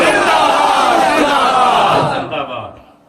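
A large crowd at a religious rally roars slogans back in unison, a loud massed shout that swells for about two seconds, then fades and breaks off.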